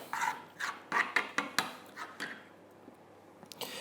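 A spoon scraping and stirring pesto in a bowl, a string of soft, quiet rasping strokes in an uneven rhythm that tapers off toward the end.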